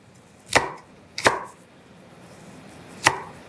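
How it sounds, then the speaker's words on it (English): Three sharp knife strikes on a cutting board as onions are roughly chopped, spaced irregularly and close by, with quiet room tone between the cuts and no talking. "I'm just going to roughly chop some onions"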